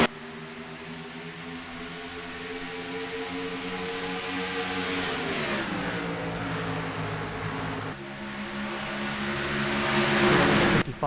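Race cars roar and accelerate together on a restart at Phoenix in a stock car racing game, a dense engine drone whose pitch dips and climbs as the pack pulls away, growing louder toward the end, with no voices.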